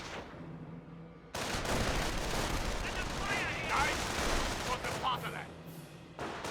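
Battle gunfire in the strategy game Company of Heroes: bursts of rifle and machine-gun fire with heavy booms, loud and continuous for several seconds, mixed with in-game voices.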